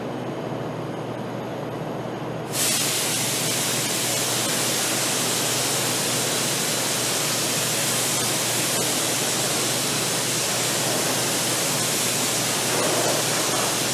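After a brief duller hiss, a spray gun shooting black epoxy primer on a Bronco dash starts a loud continuous blast that holds steady without pause, a broad rushing hiss close by.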